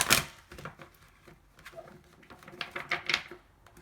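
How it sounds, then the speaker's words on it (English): Tarot cards shuffled by hand, a series of crisp papery riffles and taps in irregular bursts, close and moderately loud with no talking. "as I shuffle these cards"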